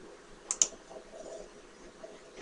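Two quick, faint clicks of keys on a computer keyboard as a command is typed, close together and followed by quiet room tone.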